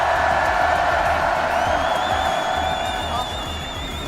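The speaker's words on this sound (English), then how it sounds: "This crowd is insane." A large live crowd at a Fortnite FNCS esports event cheers and roars steadily, with whoops and shrill whistles rising above the dense, loud hubbub throughout.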